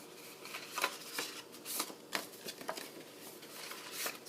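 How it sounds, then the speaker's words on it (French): Paper gift box panels, scored with a Punch Board envelope tool, are folded along their creases with soft, intermittent crinkling and rustling, faint and close. "Je vais venir former les plis que j'ai faits tantôt."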